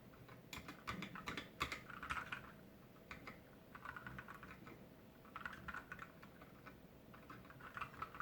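Quiet, soft-switched Moonlander keyboard typing, with fast, steady bursts of muted key taps close by and short gaps between runs.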